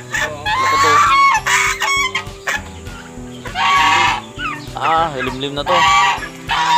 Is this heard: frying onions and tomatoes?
no